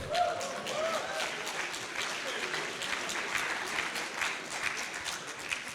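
Audience applause at a hackathon closing ceremony: a dense, even wash of many hands clapping, sustained for several seconds without speech.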